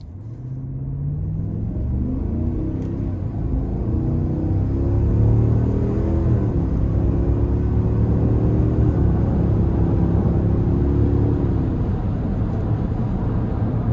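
A 2026 Cadillac Escalade Sport accelerates hard in normal drive mode, its deep engine rumble rising steadily in pitch through the gears with brief dips at the shifts, loud and continuous from inside the cabin.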